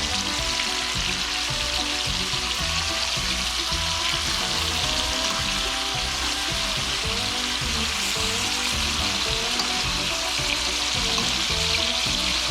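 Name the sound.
trout frying in a pan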